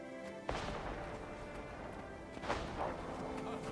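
Mortar explosions go off during a Guild Wars 2 battle, with two muffled booming impacts over a continuous rumbling game background, moderately loud.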